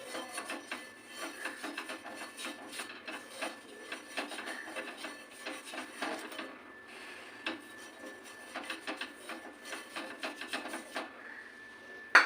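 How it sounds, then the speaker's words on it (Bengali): An iron tawa griddle is brushed with oil in a series of soft, irregular scraping and rubbing strokes, close by, with brief pauses between them. "চাটুটা একটুখানি ব্রাশ করে নেবো তেল দিয়ে"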